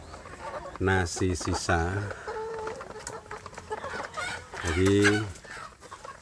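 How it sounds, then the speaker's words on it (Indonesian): Village chicks clucking and peeping while being fed leftover rice in the late afternoon, with someone talking over them close by. "Ini sore ini anak ayam kampung saya ini saya beri makan"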